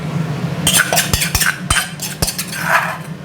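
A metal spatula scrapes and clinks against a pan while minced pork is dry-fried with pounded chili paste, giving a string of sharp irregular taps over a low steady hum.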